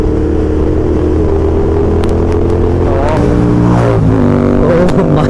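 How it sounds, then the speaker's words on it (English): A Ferrari supercar's exhaust drones steadily in the background, with a pitch rise partway through suggesting a gentle rev, heard amid road and wind noise. "I don't know if you can hear the exhaust, but it's lovely."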